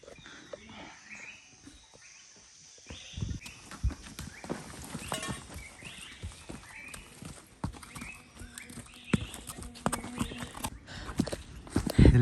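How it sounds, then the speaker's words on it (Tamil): Horse hooves clip-clopping on a mountain path near a hill village on a trek, starting faint and growing louder and closer as irregular steps approach, with a few brief sharp knocks toward the end. "இப்போ ஒரு குதிரை வருது."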